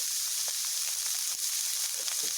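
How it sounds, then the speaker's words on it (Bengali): Figs frying in a pan with a little salt, an even close hiss of sizzling oil with faint scattered pops and crackles, no voices. "ডুমুরগুলোকে আমি ভালো করে ভেজে নেব"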